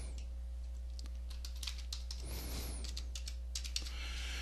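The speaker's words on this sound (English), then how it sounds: "You type in your username and your password," Fingers tap out a username and password on a computer keyboard, a quiet, uneven run of close key clicks over a low steady hum, with a short burst of faster typing midway.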